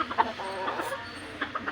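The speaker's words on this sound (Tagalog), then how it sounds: "Nagpakaon ta sa mga manok nato." Backyard chickens clucking softly in short, scattered calls, fairly close, over a low background hum with no talking.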